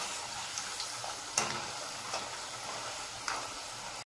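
Peanuts frying in hot oil for masala kadalai: a soft, continuous hiss and crackle with a few sharper pops and occasional stirring clinks, fairly quiet and close, with no talking.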